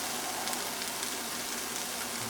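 Garlic and fresh ginger fry in a pan for a lentil stew, giving a steady, even sizzle close up with no talk over it.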